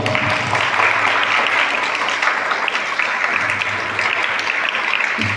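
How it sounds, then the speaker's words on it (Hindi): An audience applauds soldiers at a Veer Gatha event with loud, dense clapping that carries on steadily from start to finish, close and unbroken, with a low hum beneath it. "तो उन वीर जवानों के लिए एक जोरदार तालियों से स्वागत।"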